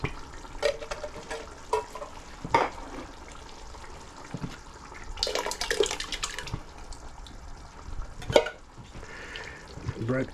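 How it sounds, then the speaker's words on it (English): A kitchen tap runs for hand washing, with a rushing burst of water in the middle among scattered clatters and quieter splashes. "Always got to remember to wash my hands."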